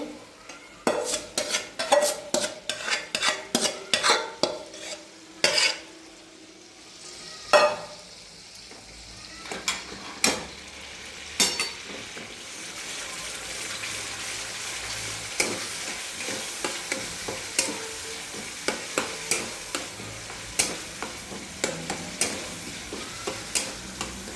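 A spinach and coriander paste fries in a pan as a spoon scrapes and clinks against the metal. The stirring strokes come in rapid bursts, then ease into a steady sizzle with occasional taps.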